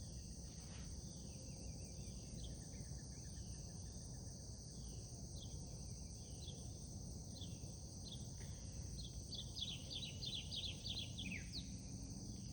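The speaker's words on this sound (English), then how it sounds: "You can hear the birds," Backyard outdoor ambience with many high, rapid chirps and short descending calls from small birds, steady and moderately distant over a low background hum.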